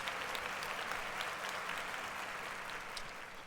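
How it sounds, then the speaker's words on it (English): An audience claps steadily through a live show, dense sustained applause at an even level that tapers slightly toward the end. "Clap it up."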